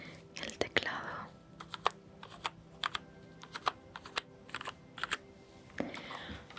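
Close, crisp ASMR computer keyboard typing: irregular bursts of clicky keystrokes with short pauses, quiet and intimate with no speech.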